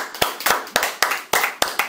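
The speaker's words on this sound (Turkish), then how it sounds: "Alkışlıyoruz o zaman Beyazıt'ı." Several hands clap in a quick, slightly uneven series of about eight close, crisp claps, lasting under two seconds, with no talk over them.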